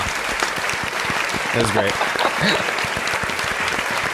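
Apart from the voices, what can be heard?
audience applause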